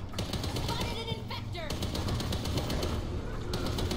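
Rapid bursts of gunfire crack out in the video game Guerra Mundial Z, with machine-gun volleys and single shots stacking into a busy, dense battle mix beneath faint game sounds.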